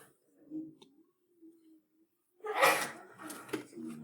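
A single sharp sneeze bursts out close by in a quiet social studies classroom, following faint murmuring and a soft click, then trails into brief breathy noise.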